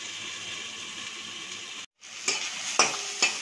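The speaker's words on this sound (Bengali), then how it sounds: "এটা এরকম ভাবে ভাজতে ভাজতে দু পিঠে দেখুন এই পিঠটা লাল হয়ে গেছে" Ilish fish head frying in a pan, a steady close sizzle broken by a brief gap, then a few sharp clinks and scrapes of stirring.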